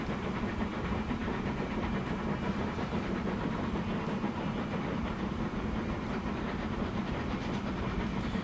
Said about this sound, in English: Just waiting for this train to come in.